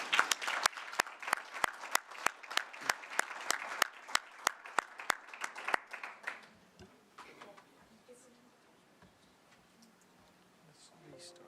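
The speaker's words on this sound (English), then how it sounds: "can we give just one more round of applause for the students?" Audience at a school board meeting applauds for students, roughly six seconds of dense clapping that then fades into quiet room tone with faint background murmur.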